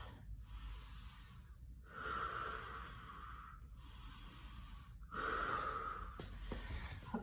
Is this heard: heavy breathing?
yes